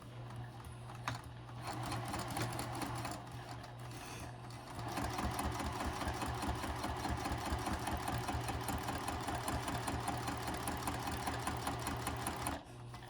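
A domestic sewing machine stitches a quarter-inch seam on a fabric wristlet clutch, its needle chattering in a rapid, steady rhythm with a low motor hum, briefly pausing and slowing where the seam is back stitched.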